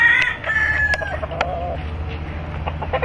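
A fighting rooster crows on a farm, loud and near, one drawn-out call at the start, followed by softer clucks and scattered farmyard noise.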